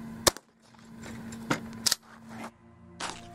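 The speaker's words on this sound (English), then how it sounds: "We tested the beanbag rounds on a variety of different targets. Things that are kind of familiar to users, such as a block of clay" A beanbag round is fired into a block of modeling clay, giving a sharp crack followed by a few smaller impact and handling sounds over a quiet background, with no talking.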